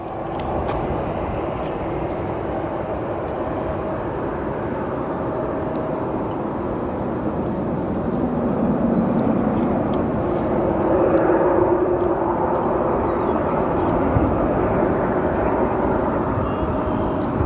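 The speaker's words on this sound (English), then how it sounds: "Here comes one of our final arrivals of the day." An airliner arriving at O'Hare Airport in Chicago rumbles as a steady, broad engine roar that swells gradually toward the middle and stays loud throughout, with no voices over it.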